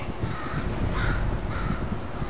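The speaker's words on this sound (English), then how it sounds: "Could you murder this bird for me?" A crow caws repeatedly in the video game Portal 2, loud and close over a steady, dense background hum, with no speech.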